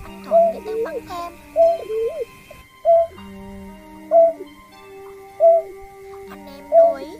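Recorded calls of a greater painted-snipe repeat as loud, evenly spaced hooting coos about once a second over a steady electronic hum, with a brief gap partway through.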